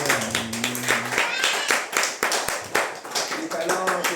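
A church congregation claps in uneven rhythm, sharp hand claps scattered throughout while people talk and a voice sings briefly over them.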